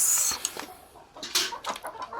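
A laying hen in a village coop clucks in short scattered bursts at close range, with light rustling between the calls.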